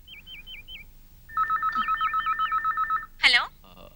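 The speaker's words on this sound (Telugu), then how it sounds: "మేడం, ఓ ఎస్టీడీ చేసుకోవాలి." Landline telephone dialing a long-distance STD call from a shop: a warbling electronic tone, then a steady run of regular ringing pulses, followed by a brief clatter of the handset.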